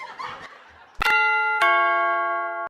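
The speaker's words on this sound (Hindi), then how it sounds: "अरे पागल, इतना घंटी क्या बजा रहा है?" A doorbell at a house gate chimes twice, a bright ding followed by a sustained dong, coming right after a short laugh.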